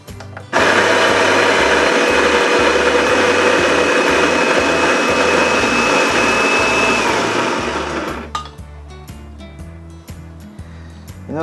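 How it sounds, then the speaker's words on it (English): An electric grinder loudly grinds 14 grams of coffee beans in a steady, close whir for about eight seconds, then winds down and stops. "14 grams in there, we're gonna now grind it. And it's a little bit loud"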